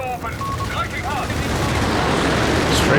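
Strafing gunfire from an aircraft in the real-time strategy game Company of Heroes 3 rattles continuously and loudly, mixed with battle noise across the whole stretch.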